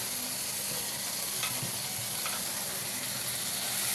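Soybean chunks sizzle and fry steadily in a pan as they are stirred for a meatless ilish-style curry, a continuous close hiss with occasional scrapes and clinks.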